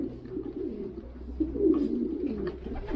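A racing pigeon cock coos close by, a low, soft, rolling murmur repeated over a few seconds, with faint background rustle and no talking.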